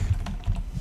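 Quick keystrokes tap on a computer keyboard while someone enters a formula label, a few close, crisp clicks in under a second with no talking.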